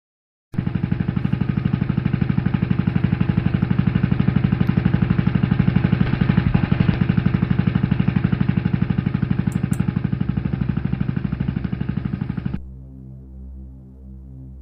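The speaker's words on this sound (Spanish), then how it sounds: "del motor de un pequeño barco alejándose de un muelle" A small boat's engine pulling away from a dock, a steady throbbing mid-pitched motor hum that holds loud and even for about twelve seconds, then cuts off abruptly, leaving a faint tonal tail.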